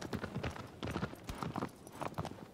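Horse hooves clip-clop at a steady trotting rhythm in the PS4 remake of Shadow of the Colossus, each hoofbeat crisp and close, faint overall and continuous.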